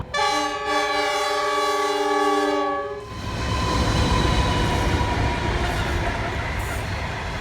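The Indian Pacific passenger train passes close by, its horn sounding loudly for the first few seconds before giving way to a steady roar and rumble of rolling carriages on the rails.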